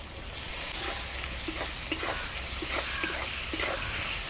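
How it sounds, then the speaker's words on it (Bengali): Spices with crushed ginger, salt, turmeric, chili powder, chopped tomato and slit green chilies sizzle steadily in a pan during a village-style chicken kosha, with soft scraping stirs recurring every half second or so, close and continuous. "জল দিয়ে মশলাটাকে একটু কষে নেব।"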